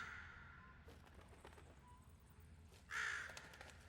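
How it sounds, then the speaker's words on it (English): A crow in a bird cage in the video game The Room caws, with a few hoarse calls, the loudest near the end, set against a quiet, dim background. "There's a little crow in a bird cage here."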